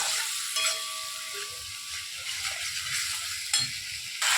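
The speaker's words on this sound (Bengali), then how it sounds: "বেটে রাখা আদা আর রসুনের পেস্ট আর সাথে জিরে গুঁড়ো, ধনে গুঁড়ো দিয়ে ভালো মতো এটাকে কষিয়ে নেব" Ginger-garlic paste with cumin and coriander powder sizzling steadily in hot oil for potol chingri, with a spatula scraping and stirring through it at intervals.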